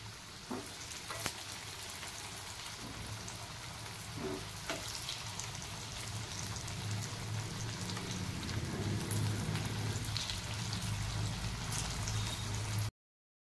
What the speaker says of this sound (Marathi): त्यानंतरच पलटून दुसऱ्या साईडने पण फ्राय करून घेऊयात